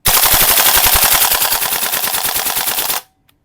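An airsoft gas blowback rifle, a budget Well Pro GBBR, fires a fast full-auto burst of sharp, evenly spaced cracks for about three seconds, loud and close, then stops dead on slide lock.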